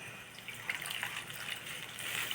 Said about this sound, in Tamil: லைட்டாக புளித்தண்ணி விடுறோம் இது கொஞ்சமாக